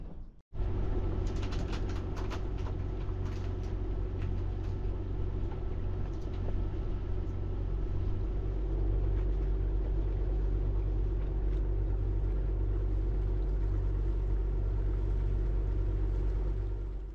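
At an overnight stop, motor engines hum as a constant, low droning rumble for the whole stretch, steady and even after a brief sharp knock at the start.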